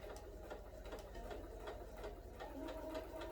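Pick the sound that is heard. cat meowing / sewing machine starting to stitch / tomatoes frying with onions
sewing machine starting to stitch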